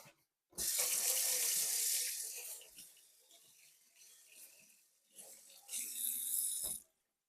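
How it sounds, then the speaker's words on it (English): A carrot washed under a running kitchen tap, water gushing loudly into the sink, easing to a softer trickle, then surging again briefly before shutting off. "we got to take this carrot and wash it"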